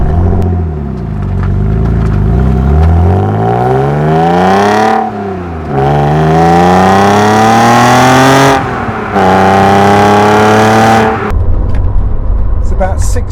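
Alpina car freshly out of winter storage pulls away and accelerates through several gears, the loud engine note rising in pitch with brief dips between shifts before settling into a steady cruise near the end.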